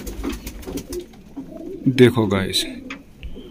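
A fancier's pigeon lets out a close, throaty coo midway through, rolling and warbling briefly, while someone talks before and around it.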